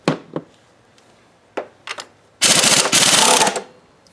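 A 1/2 inch impact wrench on a Ford Focus 2.0 litre engine gives a few short taps, then a loud, close, sustained hammering burst as it works a nut and stud loose.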